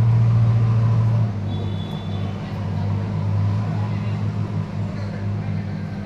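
A Magicook Pro 22CE microwave oven running after start is pressed gives a steady, low electrical hum with a faint buzzing edge. It is louder for the first second, then settles into an even drone.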